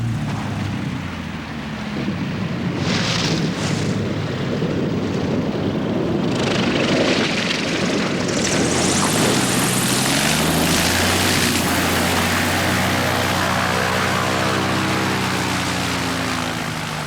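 A propeller-driven bush plane flies over the Alaskan wilderness. Its engine drone swells and then shifts pitch as the aircraft passes close overhead, heard alone with no voices.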